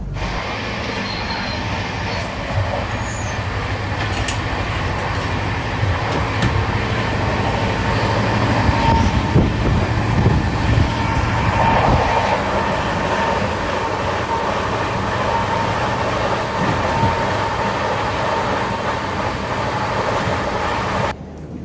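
The 12280 Taj Express passenger train rolls along the rails near Agra, heard from on board as a loud, continuous rumble with faint wheel squeal running through the whole stretch, with no talking.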